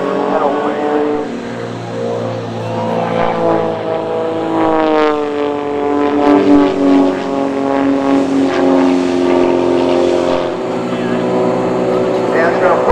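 An aerobatic propeller airplane flies a hammerhead maneuver at an air show, its engine droning loudly. The pitch swells and bends as the plane climbs and pivots, and an announcer's voice commentates over it.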